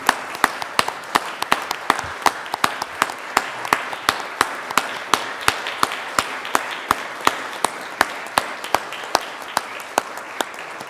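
Applause from members standing on the Colorado Senate chamber floor: sparse, individual claps ring out in a steady, even rhythm over a soft wash of clapping, with no talk, holding for about eleven seconds.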